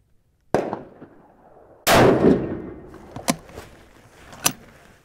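A 6mm Creedmoor rifle fires one loud, sharp shot at an outdoor range, followed by a fading echo and a few smaller metallic clinks. No one speaks.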